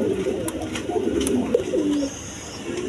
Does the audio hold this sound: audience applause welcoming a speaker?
no